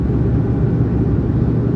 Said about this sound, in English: they take off at a high and steep angle for noise abatement. Wow, what a takeoff